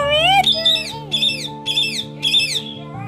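Pet parrots, freshly bathed and set outside, let out a string of shrill squawks in quick repeated bursts, near and loud over a steady low hum.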